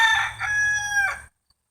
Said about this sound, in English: There's the rooster, and then there's the hen.